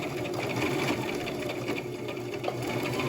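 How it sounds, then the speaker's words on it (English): A sewing machine stitches a ribbon-trimmed ruffle sock, its motor running in a close, steady, continuous whir that never pauses. "And then sew it."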